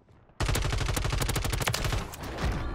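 Automatic gunfire in the video game Warzone erupts after a brief quiet start and becomes a loud, dense, sustained burst of rapid shots that continues to the end.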